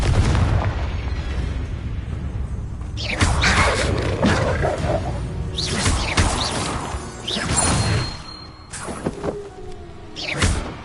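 Spell blasts in Hogwarts Legacy go off as a series of heavy booming explosions with crashing debris, several bursts spaced a second or two apart over a steady game background.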